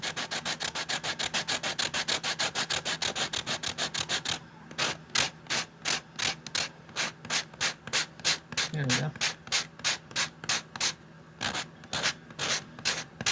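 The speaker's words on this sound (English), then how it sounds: "sand out a big part of it and try to round it out as much as possible" A piece being sanded by hand, with steady back-and-forth rubbing strokes: quick and dense at first, then slower, evenly spaced scrapes close up, heard alone.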